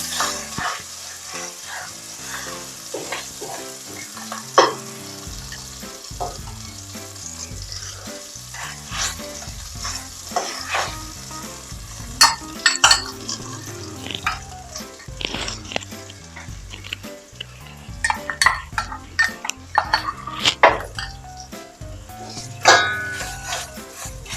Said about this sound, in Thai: ไม่ต้องเปิดไฟแรงนะคะเดี๋ยวพริกแกงจะไหม้ซะก่อน